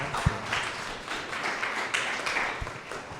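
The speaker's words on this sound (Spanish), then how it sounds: "Un fuerte aplauso para él, por favor" Applause from a seminar audience on social vulnerability, a steady wash of clapping hands with a few sharper claps standing out, moderately loud and continuous without talk.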